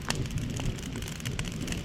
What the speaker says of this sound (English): Is it ever gonna quit raining?